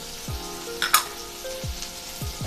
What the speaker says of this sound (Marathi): आता आपण हे छान 2 ते 3 मिनिटांसाठी परतून घेऊया